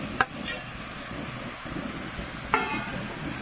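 Fried potatoes and jackfruit are stirred and sautéed in a pan for a jackfruit paneer curry, giving a soft continuous sizzle broken by a couple of sharp spatula scrapes.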